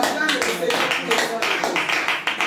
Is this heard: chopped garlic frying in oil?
no